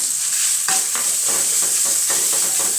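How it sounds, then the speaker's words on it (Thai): Minced pork stir-fried in a pan with already-cooked shrimp for a mixed vegetable dish, giving a steady close sizzle with repeated scraping strokes of a spatula roughly every half second. "เสร็จแล้วเดี๋ยวเราจะเอาหมูสับลงไปผัด"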